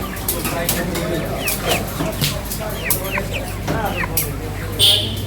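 Chickens cluck and squawk in a busy, noisy Dhaka market, with short repeated calls over steady background hum and some talking.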